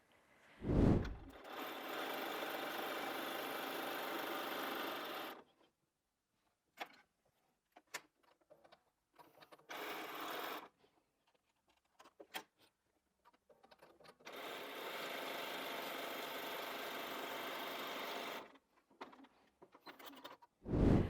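A sewing machine stitches quilting fabric for a charm pack heart wall hanging, running in several sustained bursts separated by quiet pauses and a few sharp clicks, close and with no talking.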